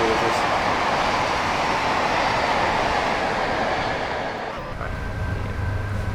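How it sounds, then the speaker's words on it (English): A Class 86 electric locomotive hauling Mark 2F coaches and a Mark 1 buffet car in Train Sim World on the West Coast Main Line from Preston to Carlisle, a steady loud rolling rumble with rail noise throughout, easing briefly near the end. "Taking the 86 out on a run with some Mark 2 Fs and the Mark 1 R&B buffet car from Preston up to Carlisle"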